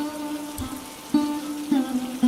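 Stormy rain patters steadily in a horror cartoon, heard as a constant wash of drops under a sustained low tone that recurs with faint swelling accents.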